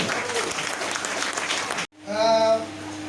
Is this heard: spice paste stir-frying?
no